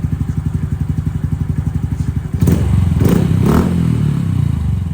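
A Honda Trail 125 motorcycle with an aftermarket exhaust idles with a deep, loud exhaust thumping in a steady rhythm, then the engine swells louder and rougher partway through.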